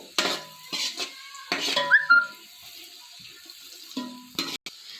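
A spoon knocks and scrapes against a pot while thinly sliced onion and cashews are stirred in for egg dum biryani, in several short clattering bursts separated by pauses.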